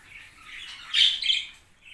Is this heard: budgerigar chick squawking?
yes